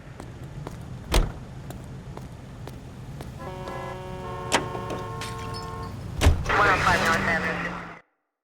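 A car in the video game L.A. Noire, with a door clunk, a steady engine hum building as it pulls away, and another door thud near the end before it cuts off.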